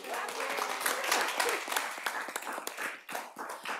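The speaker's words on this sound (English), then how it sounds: "It's okay if you want to clap for them." An audience at a school board meeting claps for an elementary school, a dense run of many hands from a fairly close crowd that carries on steadily for several seconds.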